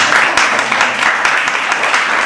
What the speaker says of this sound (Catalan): Un aplaudiment a l'Israel perquè no el conec, però és un màrtir.